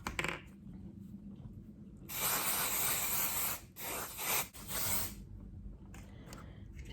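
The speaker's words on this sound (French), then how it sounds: "Je vais me remettre du spray." Hairspray aerosol misted onto hair in two or three bursts, a bright sharp hiss for about a second and a half, then shorter puffs, in a quiet room with no talk.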